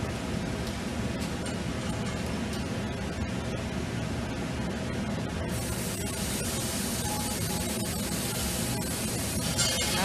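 Spray paint hissing from a can onto paper as a mass on a spring moves, a continuous broad, even hiss that stays loud and steady throughout, getting slightly brighter partway through.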